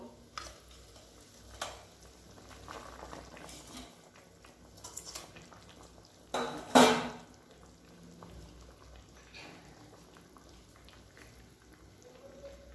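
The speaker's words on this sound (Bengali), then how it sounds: "ঝোলটা ফুটে গেছে, এবার আমি এর মধ্যে ভেজে রাখা মাছগুলো দিয়ে দেবো।" Fried bhola fish slid into a boiling curry gravy for a bitter gourd and potato jhol, giving a brief loud splash and sizzle midway over a quiet background bubble and faint stirring.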